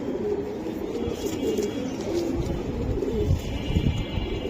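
A female Giribaz pigeon cooing close by, with repeated low, throaty coos in a soft rolling rhythm over a steady background hum.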